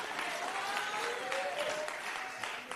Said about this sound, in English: It isn't often in our movement to give real good applause to those who are doing good work.